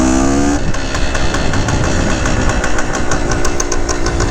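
1970 Yamaha RT1 360 two-stroke motorcycle engine running from a cold start, a loud, close, steady rattling idle with rapid even firing pulses throughout.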